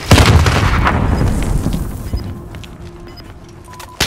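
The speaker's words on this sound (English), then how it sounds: "Cruise missile ready for launch." Cruise missile launch and explosion in a video game: a loud, sustained booming blast rumbles for several seconds, fading slightly with a few faint tonal game beeps, then a fresh burst at the very end.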